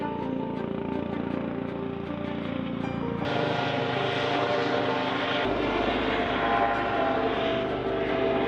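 A helicopter lands near a narrowboat on a canal, a loud, steady rotor and engine roar whose tone shifts partway through as it descends and settles.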